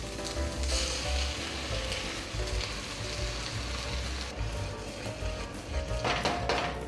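Garlic and green chilies sauté in a hot pan for a beef taco dish, giving off a steady, dense sizzle that holds evenly throughout with small crackles and no talking.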